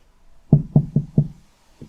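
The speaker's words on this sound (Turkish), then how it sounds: "Yalnız çıkarken kapıyı çalmak gibi oldu bu." Four quick knocks on a door, close and evenly spaced, then a single softer knock after a short pause, in an otherwise quiet room.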